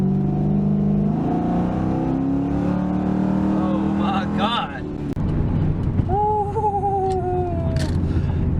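A 2004 Ford Mustang GT with a Roadrunner stall converter accelerates hard with wheels spinning, a loud rising engine roar and tire noise, then a passing car whine, with people talking over it.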